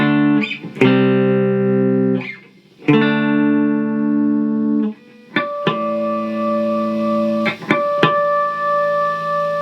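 An Ibanez Jem Junior electric guitar rings out sustained notes and chords, each struck and held, with a gentle wavering in the tone as they decay.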